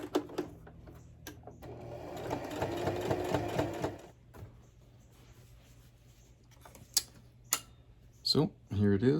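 A sewing machine tacks short stitches at the ends of a fabric mask in a quick, close run of rapid ticking, followed by scattered clicks and handling noises, with a person speaking briefly near the end.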